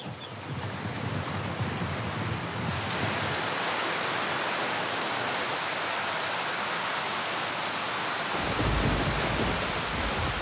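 Heavy rain pours down in a steady, loud hiss with a deep low rumble underneath for most of the stretch, the rumble dropping away near the end while the downpour continues.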